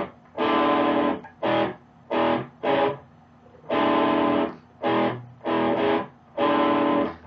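A heavy blues riff played on electric guitar through distortion, loud and close, in short chugging bursts: a long sustained chord, then several quick stabs, repeated twice with brief gaps.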